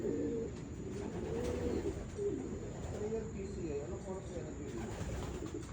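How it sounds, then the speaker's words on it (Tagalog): Racing pigeons coo steadily in low throaty murmurs, with a faint steady hiss and occasional rustling underneath. "Umiikot na kalapati dito."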